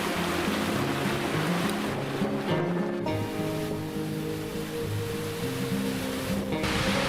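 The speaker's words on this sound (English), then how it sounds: "The water tumbles down a staircase of rocks." Water tumbles down a staircase of rocks in a narrow Peak District clough, a steady broadband rush heard from nearby, with no voices over it.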